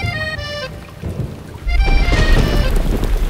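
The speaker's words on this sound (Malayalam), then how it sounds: "ടീച്ചറേ, മഴ പെയ്യുന്നുണ്ട് കേട്ടോ." Rain falls with a low thunder rumble that swells and grows heavier partway through, while a voice speaks over the early part.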